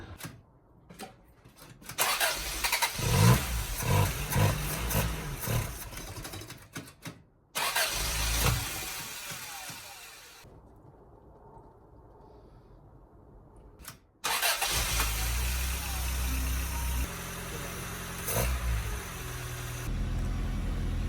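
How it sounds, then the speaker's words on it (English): A Toyota AE86 running on a mechanical fuel pump cranks and catches, revving loudly and unevenly up close, cuts out for a few seconds of near silence, then restarts and settles into a rough, steady idle. "hook up our mechanical fuel pump, and hopefully it starts right up"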